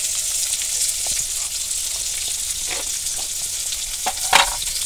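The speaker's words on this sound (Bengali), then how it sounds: "এবার পেঁয়াজটা একটু ভাজা ভাজা করে নেবো" Chopped onion, green chilli and whole cumin frying in a pan, a constant crackling sizzle with scattered stirring clicks and a sharper spatter near the end, close and alone.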